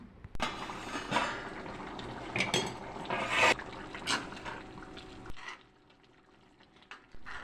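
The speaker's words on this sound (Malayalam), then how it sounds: "ഇതിലേക്ക് ചിക്കൻ വേവാൻ ആവശ്യമുള്ള വെള്ളം ഞാൻ ഒഴിച്ചു കൊടുക്കുന്നുണ്ട്" Water poured into a pot of chicken curry on the stove, a close splashing fill with light clinks of the pot and utensils, fading to quiet near the end.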